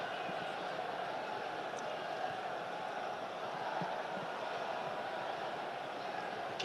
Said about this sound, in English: the crowd trying to rally the players